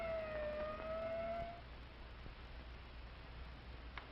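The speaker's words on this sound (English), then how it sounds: "the ambulance brings in the victim of an accident" An ambulance siren wails as one steady, slightly rising tone for about a second and a half over a hissy, crackling background, then drops away, leaving only noise.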